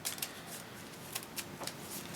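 A deck of Marvel Champions cards is shuffled softly nearby, with a series of quick, papery riffles and flicks in irregular bursts against a quiet room.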